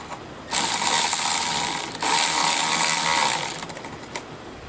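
A hose clamp is loosened on a charge air cooler boot fitted to an MBRP hot-side tube on a 6.0 liter Powerstroke, giving a close, steady ratcheting whir that breaks briefly midway, resumes and then tapers off, with no talking.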